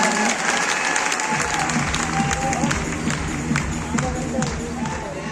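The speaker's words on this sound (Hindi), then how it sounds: "इनके लिए भी जोरदार तालियां है ना" A large crowd at Thyagaraj Stadium in Delhi gives loud, continuous applause with some cheering at a live event featuring Malaika Arora, the clapping dense and sustained throughout with crowd noise beneath.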